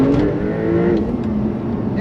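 2021 Porsche 911 992 Turbo S Cabriolet engine pulling hard under acceleration, a loud steady drone rising in pitch over two seconds.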